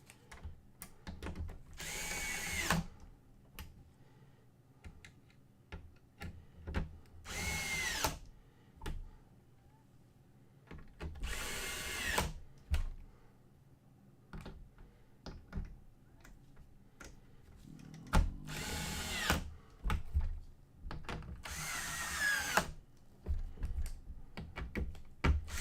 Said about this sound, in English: Let's screw them all back in.